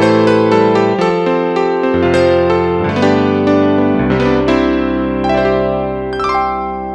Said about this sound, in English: You've got electric piano sounds like this.